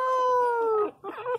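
A puppy gives a long, drawn-out yelping howl that slides slightly downward, then a short pause and a quicker whiny yelp, close and fairly loud.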